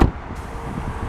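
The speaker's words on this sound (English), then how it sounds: "yet it sounds like this when you close the door." A single soft, muffled thunk as the door of a 2014 Hyundai Azera Limited shuts, heard close up and followed by a low, quiet rumble.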